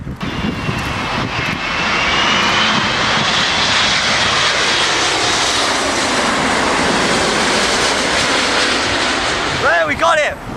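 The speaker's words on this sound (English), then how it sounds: "Today the biggest airliner in the world is about to approach" Airbus A380 jet airliner on approach to Heathrow airport, a loud roaring engine drone building and holding steady close overhead, with a brief voice near the end.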